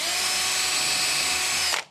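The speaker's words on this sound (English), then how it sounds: "once you have aligned the top of the front panel, drill a pilot hole" A power drill bores a pilot hole into a wooden nesting box with one loud, steady, high whine held close for nearly two seconds before it winds down to silence.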